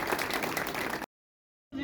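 Applause for a student being honoured at a higher secondary school programme: about a second of dense clapping from the gathered audience that cuts off abruptly into silence, then briefly returns.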